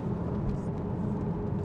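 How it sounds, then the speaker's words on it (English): A 2013 Porsche Boxster 981 S with a 3.4-litre engine and PDK gearbox hums in a steady, low rumble while driving, with no talk over it. "Listen to that engine."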